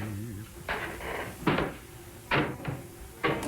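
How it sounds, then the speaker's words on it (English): Knocking on a door in a film, a few sharp wooden knocks spaced about a second apart, fairly close and clear. "Oh, somebody's knocking again."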